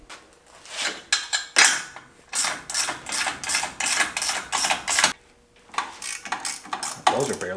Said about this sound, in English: It's got like a lot of teeth in it, and it just ratchets really well